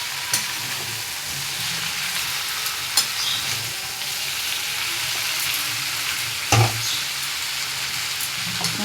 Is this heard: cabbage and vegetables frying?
yes